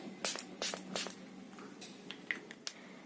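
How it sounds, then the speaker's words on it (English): Three quick, close hissing spritzes of setting spray, followed by soft rustling and a few small clicks. "I am applying this makeup setting spray"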